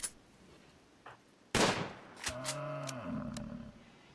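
A muffalo is shot down in the Rimworld video game: a few faint distant gunshots, then a loud sharp crack followed by the animal's low, droning moo-like groan that fades out, with a few more shots.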